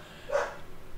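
One short, moderately loud dog bark rings out in a room, a single yelp-like bark over quiet background.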